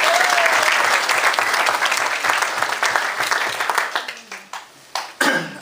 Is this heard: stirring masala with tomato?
no